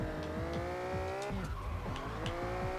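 A modded kei car in Touge Shakai slides through a handbrake drift, its engine droning steadily with shifting revs as tires skid and squeal, close and loud with no talk.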